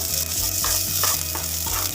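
Steady sizzle of onions frying on low heat in a pan, a constant crackling hiss with a few soft stirring knocks, close and fairly loud, no voices.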